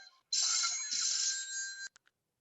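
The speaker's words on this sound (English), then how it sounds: "a telephone is ringing and ringing again" A telephone rings in one sustained electronic burst lasting about a second and a half, followed by a couple of short clipped blips, clean and isolated against silence.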